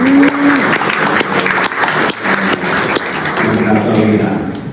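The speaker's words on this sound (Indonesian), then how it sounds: "sama-sama kita berikan aplaus yang meriah untuk Bapak Ali" Hearty audience applause for Bapak Ali at a leadership talk fills the room with continuous loud clapping, while a speaker's voice carries over it.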